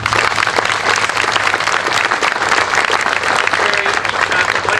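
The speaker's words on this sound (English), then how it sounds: "and I would applaud you." An audience claps in sustained, even applause at a grants presentation, loud and dense throughout with no break.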